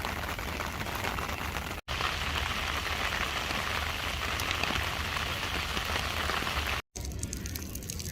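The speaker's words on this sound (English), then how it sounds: "As you can probably tell, it's raining." Steady rain pours at Humayun's tomb in Delhi, a loud, even hiss of drops striking hard surfaces that runs unbroken apart from two brief cuts.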